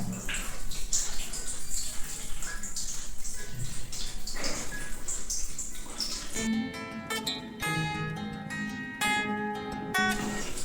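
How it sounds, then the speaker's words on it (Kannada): Water splashes and runs as a face is washed, first a dense, irregular splashing, then steadier running water from a tap with scattered droplets, all close and fairly loud. "ನೀಟಾಗಿ ಫೇಸ್ನ ವಾಶ್ ಮಾಡ್ಬೋದು ನಾವು"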